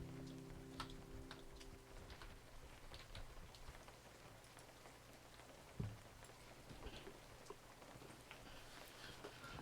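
Soft, steady rain in a fishing video game, a quiet continuous patter with scattered drop ticks and a low hum in the background, no talk.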